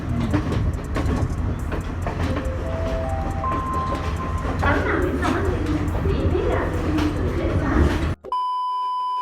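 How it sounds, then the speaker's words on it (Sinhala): A train travels along the rails with a steady, loud rumble and rattle, a few rising electronic beeps partway through, and faint voices in the background before the sound cuts off near the end. "ඔහොම ට්‍රේන් එකෙන් දිගටම යනකොට"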